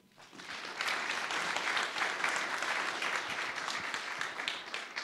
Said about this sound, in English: So round of applause for Marc